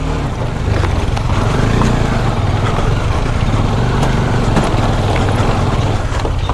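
Motorbikes on a group ride through the Araku Valley hills, with a steady, loud engine drone and wind rush running continuously close by, no talk over it.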